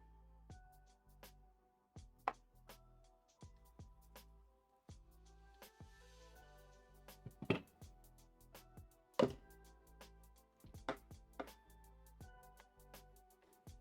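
A knife chops garlic for Irish stew, with sharp, irregular knocks on a board, some louder than others, in a quiet kitchen and with no talking.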